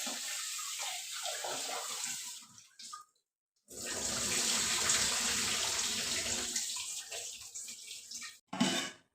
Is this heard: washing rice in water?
yes